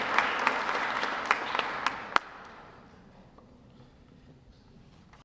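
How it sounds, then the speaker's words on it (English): An audience at a foster youth luncheon claps for the panelists, a short round of applause with a few sharp individual claps that dies away quickly into quiet room tone. "please just give our panelists a round of applause and yourself"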